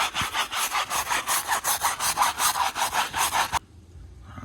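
A dirty, yellowed car wheel is scrubbed with a brush and wheel cleaner in steady back-and-forth strokes that rasp loudly and evenly for several seconds, then stop abruptly, leaving quiet background.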